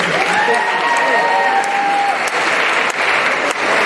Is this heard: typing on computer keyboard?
no